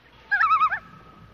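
A hen gives one short, bright clucking call lasting about half a second, close and clear against a quiet background.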